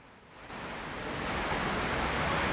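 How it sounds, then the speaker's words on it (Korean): A waterfall pouring at an outdoor spot on a hot early-summer day gives a steady, dense rush of falling water that swells a little louder after the first half second and continues unbroken. "이 폭포의 소리도 들리실지 모르겠습니다."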